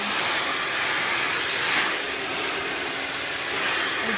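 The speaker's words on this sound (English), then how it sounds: "basically just blow drying it opposite of where we want it to lay" A hair dryer blows steadily at close range, a constant loud airy whoosh without a break while beach-wave hair is dried with a brush in a salon.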